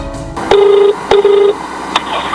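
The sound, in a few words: telephone call dialing and ringing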